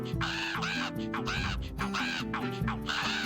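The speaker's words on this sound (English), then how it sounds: "These birds are rude." Loud, near crow caws from a video game, repeating in a steady run of harsh calls over a continuous backing of game sound, with no talk.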